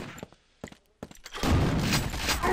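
Rapid bursts of gunfire from the video game Quake 2, a few sparse shots at first, then a dense, loud sustained barrage of firing and explosions filling the second half.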